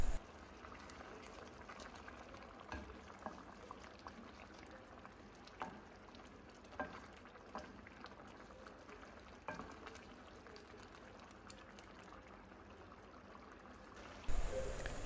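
Tomato pizza sauce simmering in a covered pot, a quiet, steady bubbling and hiss that continues throughout, with a few soft knocks at the start and a louder clatter at the end.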